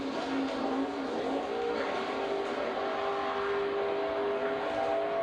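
Race cars drift racing, engines screaming in sustained high revs with a steady whining tone, heard at moderate distance as a continuous roar without speech.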